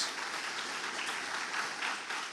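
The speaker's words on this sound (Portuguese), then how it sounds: "Vamos aplaudir o nosso Senhor bem forte." Congregation applauding the Lord during an online Portuguese-language church service, a steady dense wash of clapping held evenly through the whole stretch without a break.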